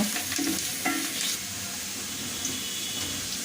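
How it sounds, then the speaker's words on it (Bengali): Onions for biryani fry in a pan, a dense close sizzle with stirring scrapes and clatter in the first second and a half, then an even frying hiss with no talking. "আমার পেঁয়াজগুলো ভাজা হয়ে গেছে,"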